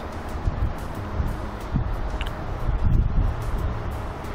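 Wind buffets a microphone during a Parrot Anafi 4K drone flight: a steady, rough low rumble that swells in gusts, growing stronger partway through, with no other clear sound.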